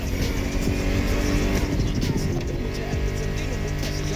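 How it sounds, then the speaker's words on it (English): Loud American muscle car engines in the video game The Crew Motorfest roar and rev continuously, with a rough, buzzing growl that shifts in pitch as they accelerate, dense and close. "Meshes well with the sound of the engines"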